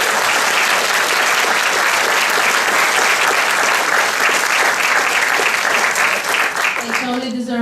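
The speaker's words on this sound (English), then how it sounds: "Let's give them one more round of applause." Loud, dense applause fills a university mathematics graduation ceremony hall, sustained clapping from a large audience that fades as a voice begins speaking at the end.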